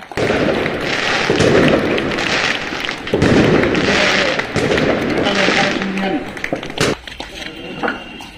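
A crowd at an AITUC union anniversary gathering at the Government General Hospital in Kurnool stands and claps loudly in dense, sustained applause for about eight seconds, with voices mixed in and a brief dip near the end.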